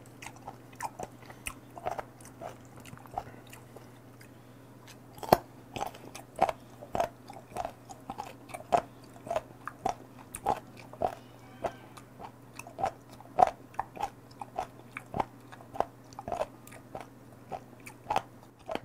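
Close, crisp crunching as fermented Heuksando skate nose with cartilage attached is chewed, a steady run of sharp bites and gristly crunches against a quiet low hum, with no talk.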